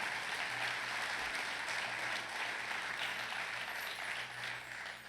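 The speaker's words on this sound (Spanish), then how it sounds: "Si es para Dios, ese aplauso dérselo de verdad." Church congregation applauding, a dense, steady wash of many hands clapping at once, fairly distant and sustained throughout before easing slightly at the end.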